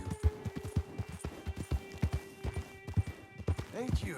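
Horse hooves clip-clop at a steady walking rhythm in Red Dead Redemption 2, close and clear, with someone speaking over the footfalls.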